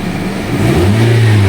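A 2018 Honda Civic engine with an occasional misfire is revved up from idle, the loud close engine note climbing and then holding at higher revs, with no talk over it.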